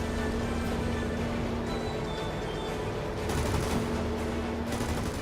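Aircraft cannons and machine guns strafing ground targets in World of Warplanes, a steady rattling stream of rapid fire over droning engine noise, loud and continuous with a brief surge partway through.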